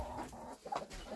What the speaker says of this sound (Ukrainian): Йдіть, йдіть, маленькі кури.